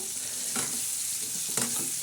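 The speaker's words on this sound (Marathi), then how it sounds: "आता हे लसूण टाकला आहे लसणाला बी चांगलं बघारणी बसू राहिली" Hot oil sizzles and crackles softly and steadily as garlic fries for a tempering, with a couple of faint stirring scrapes and no voices.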